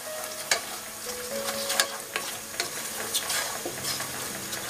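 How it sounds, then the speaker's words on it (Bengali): Spices sautéing in a pan for a thin vegetable khichuri, a steady close sizzle with repeated scrapes and clicks of stirring throughout, no talk. "মশলাগুলোকে একটু ভালোভাবে কষিয়ে নিচ্ছি।"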